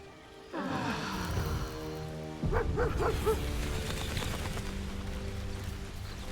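A dog in the Baldur's Gate 3 video game lets out a short run of bright yips and barks, several in quick succession, over a steady backdrop of game ambience and music.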